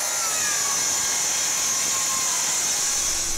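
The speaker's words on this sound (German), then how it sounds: "Weil das ist ja eigentlich eine Kreissäge zum Geradeschneiden und die klemmt ja dann normalerweise." Circular saw made for straight cuts, used to cut a curve in oak for a barn door: a continuous high, whining cut with a steady roar throughout, loud and close, no talking.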